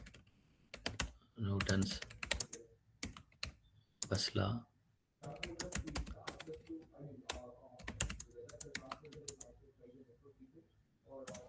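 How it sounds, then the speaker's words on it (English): Rapid clicking of computer keyboard typing in uneven bursts, with a person speaking briefly over the keystrokes. "I'm just typing."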